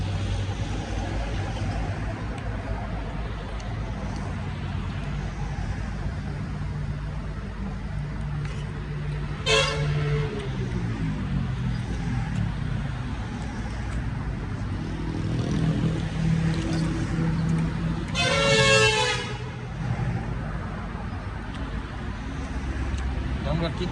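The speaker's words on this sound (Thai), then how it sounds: "เขาเลยบีบแตรบอกกัน" A vehicle horn sounds twice at a sharp corner on a curving road, two separate brief blasts heard over a steady engine rumble, with people talking nearby.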